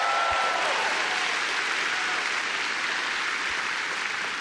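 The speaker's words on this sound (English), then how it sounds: "round of applause for that" Steady, full applause from a large convention panel audience at Star Wars Celebration, an even wash of clapping with no talk over it.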